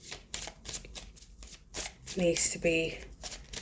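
Tarot cards being shuffled in quick riffling bursts, a series of papery crackles, with a person speaking briefly partway through.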